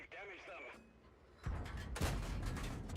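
In World of Tanks, a Sherman Firefly's tank gun fires at a Panther. After a brief voice, two heavy, booming shots land about half a second apart, each followed by a rumbling tail.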